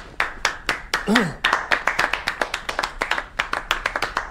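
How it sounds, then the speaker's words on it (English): Scattered hand claps from a small group of gentlemen at a royal court, honouring a holy man; distinct sharp claps in an uneven rhythm, with a voice briefly speaking over them partway through. "Gentlemen, applause for this actual man of goodness!"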